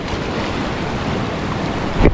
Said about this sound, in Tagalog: Malakas kasi alon